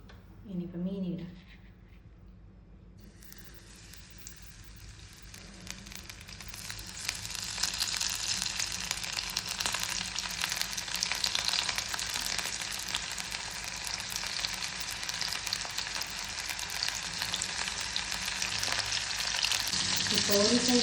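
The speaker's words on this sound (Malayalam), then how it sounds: "എണ്ണ ചൂടായി ഇനിയിപ്പോൾ മീനിടാം" Fish dropped into hot oil sets off a loud, dense sizzle that swells after a few seconds and then holds as a continuous crackling hiss, with a voice briefly at the start.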